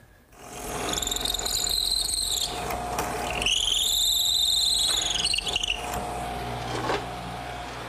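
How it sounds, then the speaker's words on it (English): Power drill boring a pilot hole through the end of a wooden piece for an eye screw, a close, loud whining motor that rises and falls in pitch over two long runs with brief pauses between. "now all I have to do is drill a nice straight hole through the end, like I did before, as a pilot for the eye screw"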